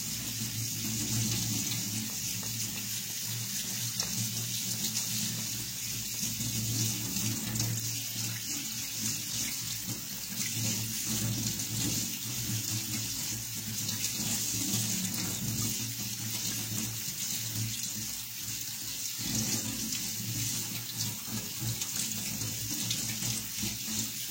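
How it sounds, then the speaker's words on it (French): Tap water runs steadily over coral lentils being rinsed in a sink, a continuous splashing stream with small fluctuations throughout. "La lentille corail mousse quand on la rince sous l'eau"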